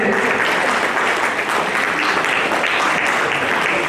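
Dense, steady applause from a large audience at an honour ceremony in Kanpur, a loud continuous roar of clapping held evenly for several seconds.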